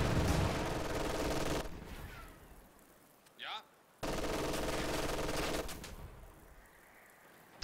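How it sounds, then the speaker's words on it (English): An MG42 machine gun fires in a World War II strategy game, with dense bursts of rapid automatic fire interrupted by brief pauses, loud and close, while a commentator speaks over the action. "MG42 working on conscripts over here on the left."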